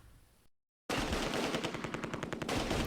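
Sustained machine gun fire in the Close Combat: A Bridge Too Far war game, a .30 caliber gun firing loud, dense rapid bursts that start abruptly after a short silence and continue without pause.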